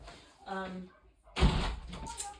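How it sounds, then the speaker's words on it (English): A back door swings shut with a solid thump near the middle, after a person speaks briefly and before some clatter and rustling. "I'm just shutting that back door again"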